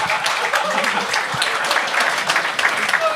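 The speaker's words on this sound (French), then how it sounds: "une bonne main d'applaudissement pour mon chien guide" Audience applause at a televised talent-show performance, a dense steady clapping from a crowd that carries on evenly for about three seconds with no break.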